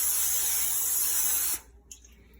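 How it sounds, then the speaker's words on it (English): A can of olive oil cooking spray hisses onto kitchen foil in a steady, close spray lasting about a second and a half, then stops, leaving a faint clatter. "I'm going to use olive oil spray."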